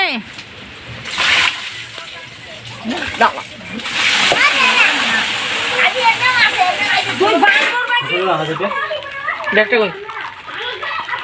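Water falling and splashing at a house in continuous irregular spatters and sloshes, with children and adults talking over it throughout.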